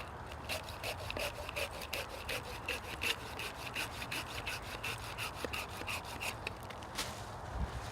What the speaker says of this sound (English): it's just a matter of my muscle here working it with this saw